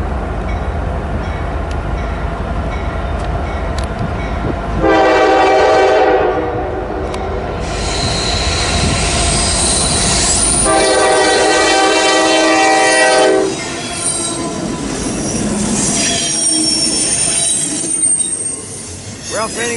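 A westbound freight train passes at Tyrone, Pennsylvania, with loud rolling rumble, two long bursts of horn and a sharp squeal of wheels near the end.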